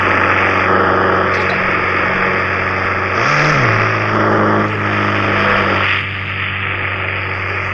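A car engine in the Indian Bike 3D video game revs steadily, with one brief swell in pitch midway before settling back to an even drone, loud and alone without talk.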